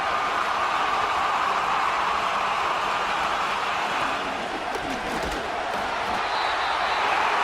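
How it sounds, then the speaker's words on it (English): Dense, steady roar of a stadium crowd during a Madden NFL 2025 divisional playoff game between the Detroit Lions and Washington Commanders, a constant loud wash of noise with no clear breaks. "Man, this crowd loud again."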